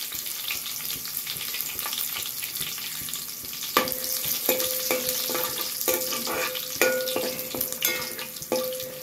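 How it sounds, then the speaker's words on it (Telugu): Garlic and dried red chillies frying in oil in a pan, a soft steady sizzle with occasional stirring clinks and scrapes growing busier partway through, close and moderately quiet, no talking. "వెల్లుల్లిపాయలు 1 నిమిషం వేగాక ఎండుమిరపకాయలు కూడా వేసేసుకుంటున్నాం."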